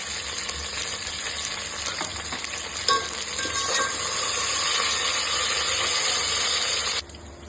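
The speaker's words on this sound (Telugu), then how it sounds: "కొత్తిమీర వేస్తున్నాను, పుదీనా, అలానే పచ్చిమిర్చి" Fried onions with fresh coriander, mint and green chillies sizzle loudly in a hot pan for bagara rice. The steady, hissing fry swells once the herbs go in and then cuts off abruptly near the end.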